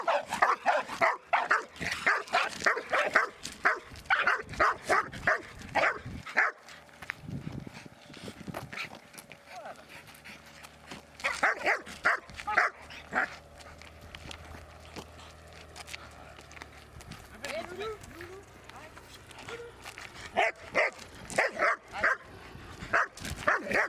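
Dogs bark in rapid bursts, with yips and whimpers between them, close and loud, pausing for a quieter stretch midway before barking resumes.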